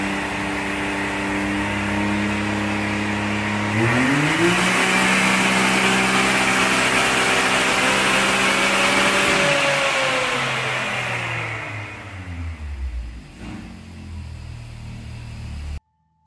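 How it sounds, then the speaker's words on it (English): A Can-Am X3 side-by-side engine on a dyno revs up hard and holds a loud, steady drone at high RPM, then winds down to a lower rumble as it eases off. "let's give this car a whirl on the dyno"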